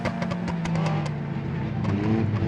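Several cars driving and revving in the video game BeamNG during a road race, where one car is badly damaged; engine drone with rising and falling pitch and a series of short bursts early on, heard with no talk.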